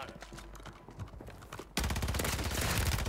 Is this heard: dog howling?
no